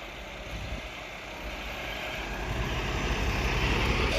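A tractor engine runs steadily during ploughing with a three-furrow Lemken reversible plough, a continuous low rumble that grows slightly louder toward the end, with no speech.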